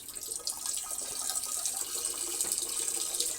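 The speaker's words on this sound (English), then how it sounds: "You can listen to me pee" A person urinating into a toilet, giving a steady, fairly faint hissing trickle of liquid that runs continuously throughout with no talk.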